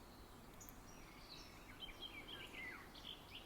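Faint birds chirp and twitter now and then over a steady soft background hiss in a quiet outdoor nature setting beside water, with no voices.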